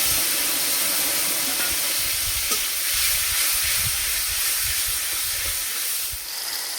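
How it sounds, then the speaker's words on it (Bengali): Tomatoes hit hot oil in a pan and set off a loud, steady sizzle and hiss close by, with faint stirring, while a Bengali rohu fish curry with mustard paste is cooked. "তেলে টমেটো দিয়ে দেব।"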